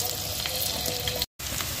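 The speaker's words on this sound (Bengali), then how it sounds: "এবারে আমি মাছের তেলটা অল্প একটু তুলে নিয়েছি এবং তার মধ্যে আমি আলুগুলো ভেজে" Potatoes fry in a small amount of leftover fish oil, a close, steady sizzle with light stirring, briefly cut off before resuming.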